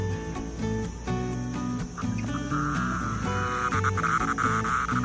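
Loud, steady insect droning and buzzing, layered with a rising high-pitched whine, fills the air close by in a lakeside park.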